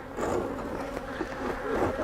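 Honeybees hum steadily around an open hive during spring supering, a dense, continuous buzz of many insects close by with no voices.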